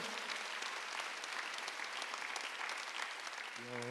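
A church congregation at a Sunday worship service applauds after a sung psalm, steady dense clapping throughout, with a sustained organ or keyboard tone entering near the end.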